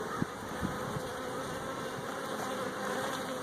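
Steady, dense buzzing of many honeybees from a hive colony fills the air continuously, close and fairly loud, with a few faint thumps underneath.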